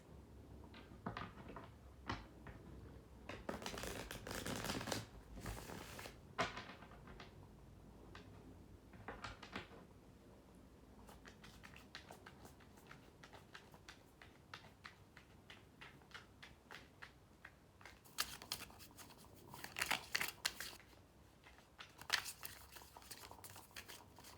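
Tarot cards are shuffled by hand in a quiet room: soft, sparse riffles, taps and slides at close range, with a couple of louder flurries of rapid card flicking.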